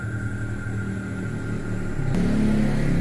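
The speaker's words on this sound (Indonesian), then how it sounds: "Ini ada motor lewat sebentar" A steady engine drone that swells and shifts pitch partway through as a motorcycle passes nearby, with no talking.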